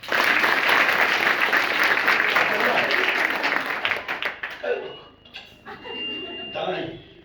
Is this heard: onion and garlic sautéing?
no